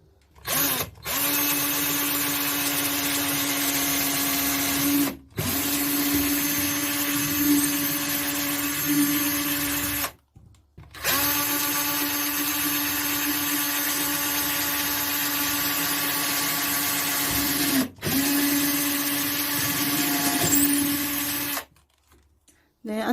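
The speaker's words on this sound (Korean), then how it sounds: "적당한 위치에 손잡이 끼워줄 구멍 뚫어줄게요." A power drill bores holes through a wooden cabinet door for a handle during a furniture makeover, running in long, loud sustained bursts with brief pauses between them.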